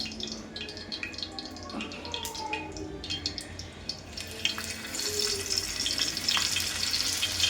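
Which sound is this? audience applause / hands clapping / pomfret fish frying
pomfret fish frying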